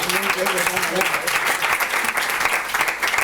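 Loud, dense applause from a crowd fills the whole stretch, with a voice heard briefly at the start.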